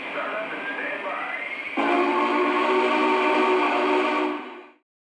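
A Lionel model of the Union Pacific 4014 steam locomotive runs its startup sequence: a steady hiss and hum, then a louder tonal whistle-like blast that holds for a few seconds and cuts off abruptly.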